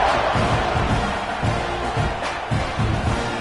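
A dense, roaring crowd fills a college football stadium as the teams line up for a kickoff, a constant wash of cheering and shouting with rhythmic swells of chanting underneath.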